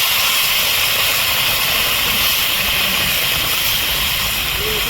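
Hot water hits a pan of fried fish and radish, raising a loud, steady sizzling hiss that fills the whole moment without a break.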